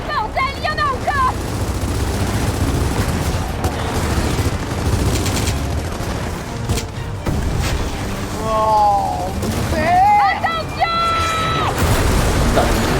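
Dense gunfire and explosions from the shooter game Gears of War 4, played on an Xbox Series X, roar continuously and loudly alongside tonal in-game effects, while a player exclaims briefly.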